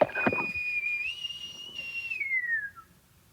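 A single sustained whistle, clear and high, holding one pitch then gliding slightly down before fading out, after a brief soft rustle.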